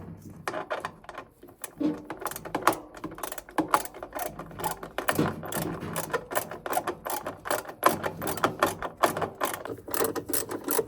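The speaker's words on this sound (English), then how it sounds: "So now I've got all the tub screws in, they're all nice and tight" A ratcheting hand tool clicks rapidly and continuously as it tightens the plastic tub screws inside a Bush washing machine, close and steady, with brief pauses between runs of the ratchet.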